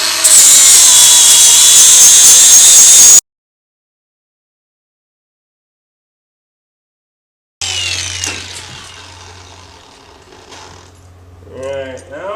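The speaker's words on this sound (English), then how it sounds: "I got a new wheel for the grinder, so we're just going to clean this up a little bit so I got a good surface to weld to" An angle grinder fitted with a new wheel cleans up a metal surface ahead of welding, a loud high whine that cuts off abruptly, then after a silent gap a quieter grinding and scraping that fades.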